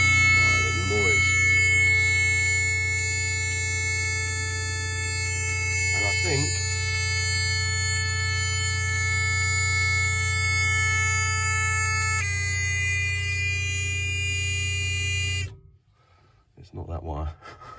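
Warning buzzer in a Ford Escort Mk2 with the ignition on, a steady harmonic drone holding nearly the whole time with a shift in tone partway through, then cutting out abruptly near the end as a voice speaks.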